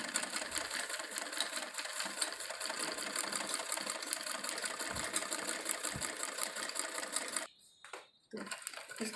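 A sewing machine stitches a design line along a salwar hem, its fast, even rhythmic whir running steadily up close before pausing briefly near the end.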